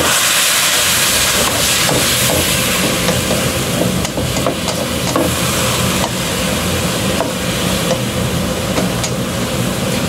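Pork frying in a pan as a little water is added, giving a loud, steady steam hiss and sizzle with scattered pops and crackles throughout, no talking.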